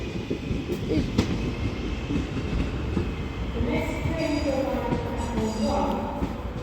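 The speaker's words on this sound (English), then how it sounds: "323207 is also departing now for Manchester Piccadilly" Class 323 electric passenger train 323207 rumbles steadily with low drone, then rising electric motor whine and tonal hum as it departs Stoke-on-Trent station, fairly close, with faint voices in the background.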